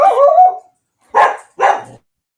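A dog barks three times: one long, wavering bark followed by two shorter, sharp barks after a pause, fairly close and loud, with no talking over them.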